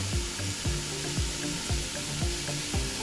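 Green onions and garlic sautéing in beef grease in a pan: a continuous close sizzle broken by rhythmic spatula strokes scraping across the pan roughly every half second.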